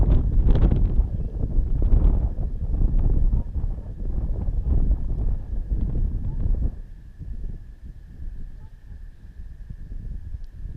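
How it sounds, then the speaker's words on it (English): Wind gusting across a lake and wrapping around surface vegetation while fishing, a close, low, rumbling buffet on the microphone that stays steady and loud before easing to a lighter blow near the end. "the way the wind gets wrapped around that vegetation on top, sometimes it's a little tough."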